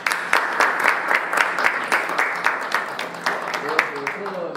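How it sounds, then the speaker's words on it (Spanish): Audience applause at the close of a certificate presentation during a nanotechnology course, a steady stretch of dense clapping with a few sharper claps standing out, heard close and fairly loud, with a faint voice underneath near the end. "con el aplauso de todos los asistentes"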